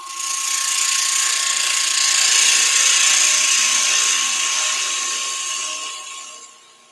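A tool cuts through a Banksia nut pendant spinning on a wood lathe, a steady, close, bright hissing scrape with a thin tonal whine that holds for several seconds before fading out.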